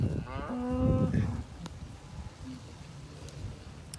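A cow lets out a single low, drawn-out moo nearby on a cattle move, followed by quieter outdoor ambience and a faint second lowing.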